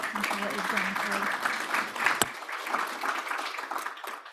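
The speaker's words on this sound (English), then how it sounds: "I really think you deserve a round of applause for being here" An audience at a panel discussion on psychiatry and mental health breaks into applause that builds and continues steadily. A speaker's voice is heard at the start and a sharp click cuts through midway.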